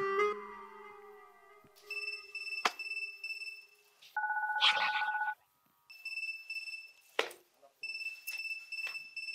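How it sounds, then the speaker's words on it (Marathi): A phone ringing in a comedy sketch: bursts of bright, repeating electronic ringtone tones, fairly faint, separated by short gaps and mixed with a few sharp sound-effect hits. "कोणाचा फोन वाजला बाई?"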